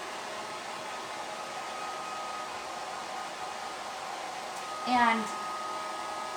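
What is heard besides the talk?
hair dryer drying a chalk-painted surface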